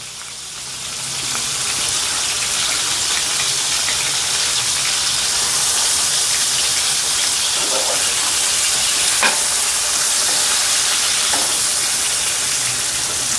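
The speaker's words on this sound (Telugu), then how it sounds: "వాటిలో మనం మిక్సీ ఆడుకున్న ఈ ముద్దను వేసుకొని ఇలాగా నాన్ స్టిక్ ప్యాన్లో వేసేసుకుందాం" Stuffed ridge gourds sizzling in oil in a non-stick pan, a loud steady crackling fry that continues throughout, with a few soft clinks as they are stirred.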